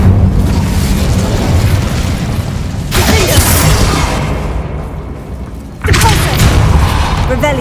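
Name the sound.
Incendio fire spell explosion in a Harry Potter video game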